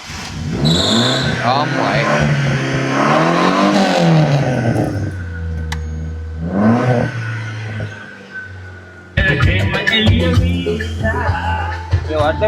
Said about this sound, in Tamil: ஸ்டார்ட் பண்ணி காட்டுவோம். ரேஸ் பண்ணி காட்டு.